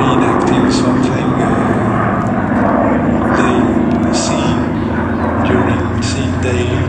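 A P-40 warplane flies at an airshow while chasing a Buchon, producing a steady, loud engine roar with a broad rumble that holds through the whole stretch.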